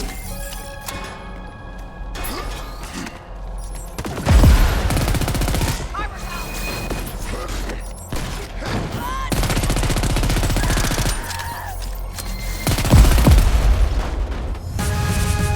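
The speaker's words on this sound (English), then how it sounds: "Get out of that gunfire!" Sustained machine gun fire in the Crackdown 3 video game, dense rattling bursts with heavy booming impacts and explosions, loud and continuous across the whole stretch, with brief shouted voices in the mix.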